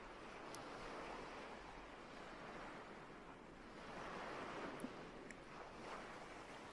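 Sea waves roll in steadily, a broad, continuous wash of surf with gentle swells and a faint wind rumble, close and unbroken, with no voices over it.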